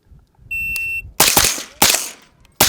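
Three loud, sharp gunshots from a 300 Blackout rifle at a timed shooting drill, each booming with a short decay, preceded by a steady electronic start beep.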